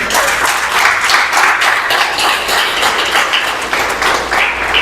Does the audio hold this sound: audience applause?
yes